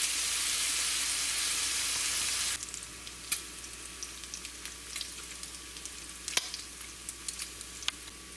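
Bacon sizzling in a pan for cassoulet, a loud dense frying hiss that drops to a quieter crackle partway through, with scattered pops and scraping stirs close by.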